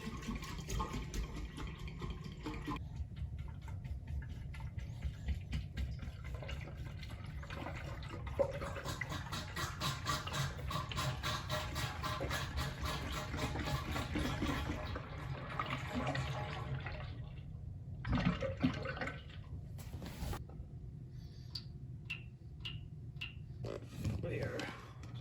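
Homebrew beer wort pouring through a silicone hose into a fermenter for aeration, a steady close splashing and gurgling that stops and restarts near the end, with a voice speaking over it.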